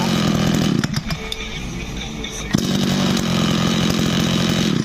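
The small gas engine of a used Japanese Komatsu Zenoah TR26 brush cutter, just pull-started, roars loudly up close, dipping briefly before surging back to a harsh, continuous buzz.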